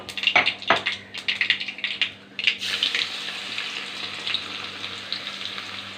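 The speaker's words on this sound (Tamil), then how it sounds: "பூண்டு நல்லா பொரிஞ்சிச்சு" Garlic frying in hot oil with mustard seeds: crackling pops and spits in quick bursts at first, then settling into a steadier close sizzle, with no one speaking.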